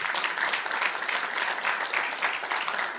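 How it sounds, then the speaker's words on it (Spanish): An audience claps in a dense, steady burst of applause that runs throughout at an even, moderate level, with no voices standing out. "Eso merece un aplauso."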